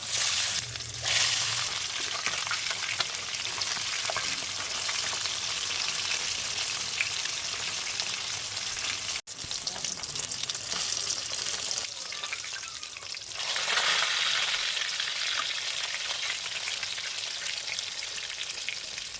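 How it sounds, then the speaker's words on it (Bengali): Katla fish pieces rubbed with salt and turmeric frying in hot white oil in a wok, a steady dense sizzle with crackling bursts, close and continuous, swelling louder near the end. "কড়াইতে সাদা তেল দিয়ে তেলটা গরম হয়ে গেলে লবণ আর হলুদ মাখিয়ে রাখা কাতলা মাছগুলো উল্টে পাল্টে লালচে করে ভেজে তুলে নেব"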